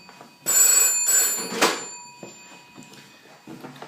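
A landline telephone rings at home with an unwanted cold call, giving two loud bursts of bell ringing close by, then a fainter ring and quieter room sounds.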